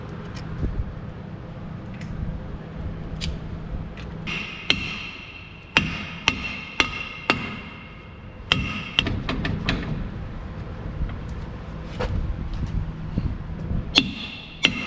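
Metal hammer blows strike rusty sheet metal on a patina Dodge Sweptline pickup truck, a dozen or so sharp irregular knocks spaced out over steady outdoor background noise, fairly close.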